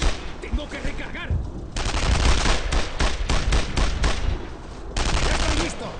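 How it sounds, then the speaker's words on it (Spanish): Covering gunfire on a World War II battlefield in Brothers in Arms: Road to Hill 30, with loud, rapid bursts of rifle and machine-gun shots in close succession, pausing briefly before resuming, and occasional shouted voices. "¡Fuego de cobertura!"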